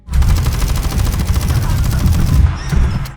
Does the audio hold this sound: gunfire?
yes